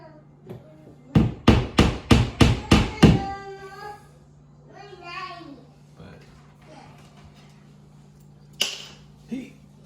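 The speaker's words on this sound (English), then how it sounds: "you start nailing it in, and because there's an angle on it, it doesn't always go in like perfectly straight" A hammer drives a nail into an angled picture frame hanger with seven quick, evenly spaced, sharp strikes close by, followed by quieter rustling and one or two lighter knocks.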